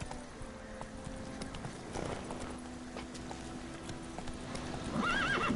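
Roach, a horse in a video game on PS4, gallops with steady clip-clop hoofbeats throughout and lets out a whinny near the end, heard close and fairly loud.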